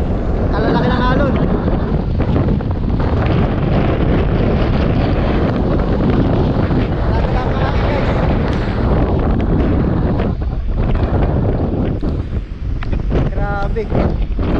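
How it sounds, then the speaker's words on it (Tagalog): Big sea waves surge and crash amid strong wind buffeting the microphone in a loud, continuous roar, with people talking over it throughout. "Kalalaki ng alon doon, no?"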